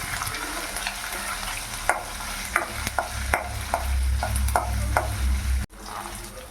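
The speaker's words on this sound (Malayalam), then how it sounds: "ചെറിയ ഒരു കഷ്ണം ഇഞ്ചി ചെറുതായിട്ട് കട്ട് ചെയ്തതും 3 പച്ചമുളകും കട്ട് ചെയ്തതും ചേർത്ത് ഇളക്കി കൊടുക്കാം" A spatula stirs chopped ginger and green chillies in a pan over steady frying sizzle, with sharp scraping strokes every half second or so in the middle stretch.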